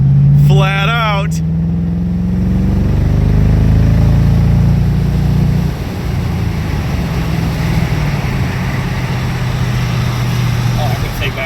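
A 2007 Mercedes-AMG SL55 engine accelerates flat out from inside the car, a loud, continuous rising roar that shifts and carries on to the end, with a brief voice heard near the start.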